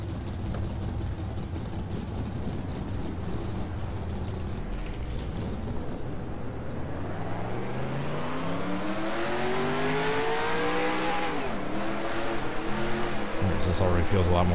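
Race car engines in the NASCAR Racing 2003 (NR2003) game fire up and rev, loud and continuous, with rising engine-pitch sweeps as the cars accelerate around Daytona, under occasional talk.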